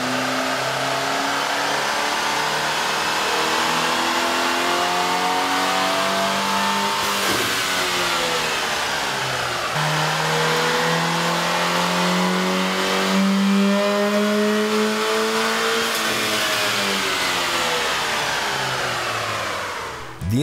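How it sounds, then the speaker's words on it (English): A Chevrolet Equinox (2010–2015) fitted with a K&N cold air intake revs on a dyno, its engine rising and falling in pitch through several long sweeps; loud, close and continuous without speech. "we ran the vehicle on the dyno to test the sound comparison versus the stock intake"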